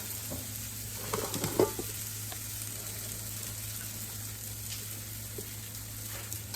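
Arepas fry in a hot pan with a soft, even sizzle and occasional pops, a quiet, steady hiss with no talking.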